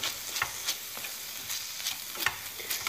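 Kefta meatballs fry with canned tomato in a pan, a bright continuous sizzle with regular scraping stirs at close range and no voices.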